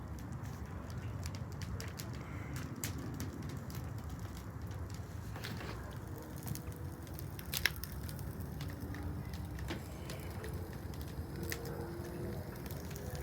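A campfire burns outdoors with sparse, faint crackles and sharp pops scattered over a low, quiet background, with one louder snap in the middle.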